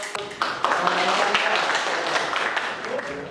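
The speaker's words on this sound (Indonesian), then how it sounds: "kita beri aplaus ya untuk" Students in a classroom applaud a classmate with a burst of clapping that carries on for a few seconds, while a voice talks over it.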